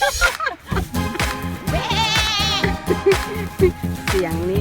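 Goats bleat repeatedly at a farm that also keeps miniature horses, wavering calls overlapping with a rhythmic low thumping and some nearby background voices.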